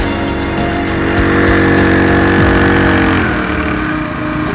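A Honda GXH50 small engine driving a water pump runs steadily with a loud, even mechanical drone and a slight dip in pitch near the end as it is shut off.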